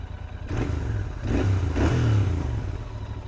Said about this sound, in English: Stock exhaust setup, guys, and the mic is inside the helmet right now and this is how the bike sounds